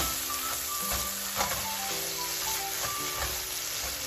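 Marinated steak sizzling in a pan while being stirred, a continuous frying hiss broken by clinks and scraping strokes, with faint tonal background hum.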